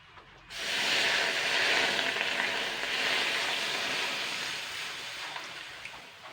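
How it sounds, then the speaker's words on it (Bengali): Water hits a hot, empty wok and bursts into a loud, close sizzle that starts abruptly, then slowly fades into a steady hiss. "কড়াইটা গরম হয়ে গেছে এবার আমি এখানে সামান্য পরিমাণে জল দেবো"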